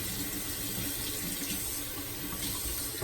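Steady tap water runs continuously at close range while safety razor blades are rinsed under it in a sink, a broad even hiss with no talking.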